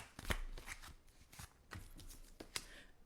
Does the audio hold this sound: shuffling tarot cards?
yes